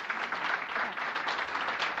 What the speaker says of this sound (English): So we could give them a round of applause.